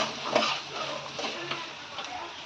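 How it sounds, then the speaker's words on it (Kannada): Chopped onion stirred and frying in a kadai, giving a steady soft sizzle with faint scraping and stirring clinks of a spoon against the pan, fairly quiet and close with no talking. "ಒಂದು ಉಳ್ಳಾಗಡ್ಡಿ ಕೂದಿರ್ತಿರಲ್ಲ ಅದನ್ನ ತೊಗೊಂಡು ಕಡಾಯಿಗೆ ಹಾಕ್ರಿ. ಹಾಕಿ ಅಲ್ಲಾಡ್ಸ್ರಿ ಬ್ರೌನ್ ಆಗೋ ಮಟ್ಟ."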